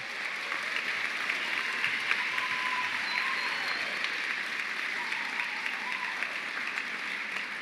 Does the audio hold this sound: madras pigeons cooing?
no